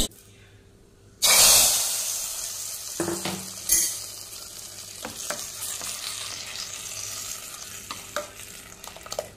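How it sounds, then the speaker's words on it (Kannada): Dried red chillies hit hot oil for a tempering over a tomato saaru, bursting into a loud sudden sizzle that gradually settles into softer crackling and spitting close by. "ಇವಾಗ ಒಗ್ಗರಣೆಯನ್ನು ಹಾಕ್ತೇನೆ."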